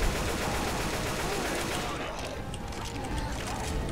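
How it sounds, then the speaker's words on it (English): Gunfire in the zombie shooter Left 4 Dead 2 during a farm-area round, a dense continuous clatter of rapid shots and mechanical rattling, loud and close throughout with game noise layered over it. "I'm shooting him."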